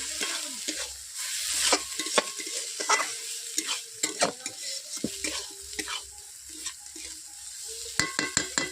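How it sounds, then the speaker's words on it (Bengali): A spatula scrapes and clatters around a metal wok in uneven strokes over a low sizzle of spinach frying in fish oil, close and fairly loud, with no talking. "তেল দেওয়ার পর আমি এমনির মতো নেড়ে নিচ্ছি"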